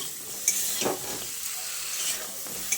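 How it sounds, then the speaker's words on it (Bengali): Flat beans frying with nigella seeds in a pan: a close, steady sizzle with occasional scraping stirs and light clicks over a few seconds. "এবার এই কালো জিরেটা দিয়ে শিমটাকে ভেজে নেব।"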